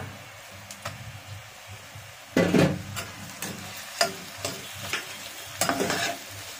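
Browned onions frying with ginger garlic paste for a mutton and chana dal curry crackle softly in a pan, punctuated by several distinct, loud stirring scrapes and clatters of a spoon.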